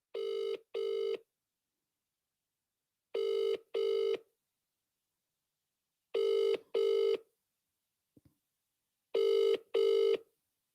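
A telephone call that rings out unanswered: four evenly spaced double ringback tones sounding clearly against silence, with no voices.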